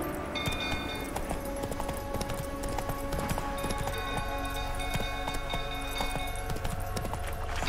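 Hooves of Roach, the horse in The Witcher 3, clattering in a fast galloping rhythm, steady and close throughout, with game music and ambient effects layered underneath.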